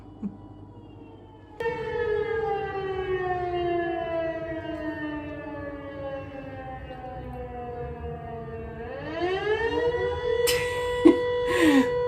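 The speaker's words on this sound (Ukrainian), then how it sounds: "О, тривога знову." An air raid siren in Ukraine wails steadily in the distance, its tone slowly falling and then rising again, with faint clatter near the end.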